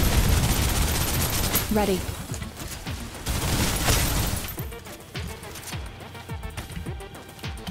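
Suppressive gunfire in the Snowbreak video game: dense, sustained bursts of rapid automatic shots with booming impacts, loud and continuous for several seconds before thinning into scattered single cracks, with brief voices speaking over the firing.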